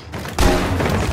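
Blaster fire in Star Wars Battlefront 2 on the Death Star II, a loud dense burst of rapid shots crashing in after a brief quieter moment and sustaining as a continuous barrage.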